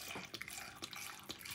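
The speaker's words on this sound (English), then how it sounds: "Just put a little bit of water inside of it like this." Small amount of water poured into a juice mixture of lemon and apple cider vinegar, a soft steady trickling splash that runs on for about a second and a half, moderately faint with a few brighter spatters.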